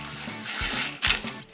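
A power gun cinches engine bolts on a supercharged big-block mock-up in a Cutlass. Short, close rattling mechanical bursts come in a couple of quick pulses over a low workshop hum.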